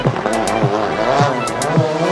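Rally car racing at speed along a village road at a rally in the Vosges, Grand Est, with a loud, close engine roar that rises and falls as it shifts gears while passing.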